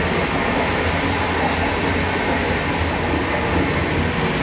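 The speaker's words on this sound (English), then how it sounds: "That's literally the train line underneath us." Steady loud rumble of a train on an Indian sleeper train line rolling along the tracks close beneath, a continuous roaring clatter with no voices.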